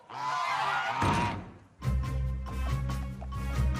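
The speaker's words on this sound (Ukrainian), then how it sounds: "чергова фальшива тривога сторожових гусей" Loud, chaotic alarm honking from a flock of guard geese, harsh overlapping calls in repeated bursts that carry on steadily after a brief lull.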